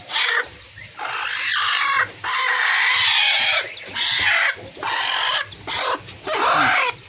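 Hens in a coop cluck loudly and close by in repeated bursts, with agitated squawks rising and falling in quick succession.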